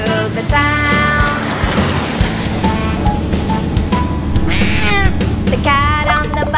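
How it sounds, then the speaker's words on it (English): Cartoon cat meows repeat several times in a children's nursery rhyme song about a bus, over loud backing music, each meow short and rising. "The cat on the bus says meow, meow, meow"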